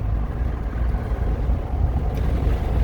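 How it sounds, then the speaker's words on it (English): A Toyota Highlander hybrid accelerating, heard from inside the cabin as a steady low rumble of engine and road noise that holds even and fairly loud. "Now I press on gas again."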